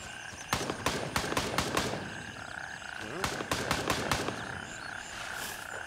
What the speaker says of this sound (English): I like how the frogs turn on.